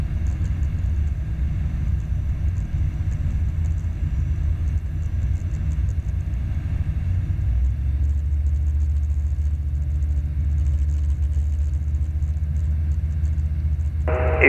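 A light training plane's engine heard from inside the cockpit near Edenvale Aerodrome as it slows for descent, a steady low droning rumble whose pitch drops partway through before a brief sharper sound at the end.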